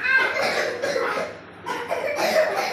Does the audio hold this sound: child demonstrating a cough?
yes